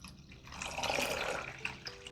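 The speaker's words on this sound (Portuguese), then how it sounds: "eu vou adicionar aqui na panela 500 ml de água" Water poured into a cooking pan on the stove to make a broth, a steady splashing stream that swells and then tapers off, moderately near with no talk.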